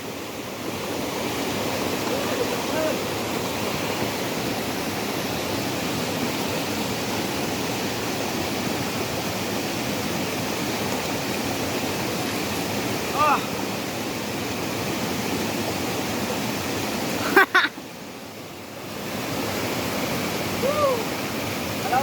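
Steady, strong rush of the current at Mapita Falls, a constant dense roar of water close by, briefly interrupted by a sharp knock.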